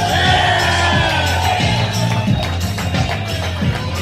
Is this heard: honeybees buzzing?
no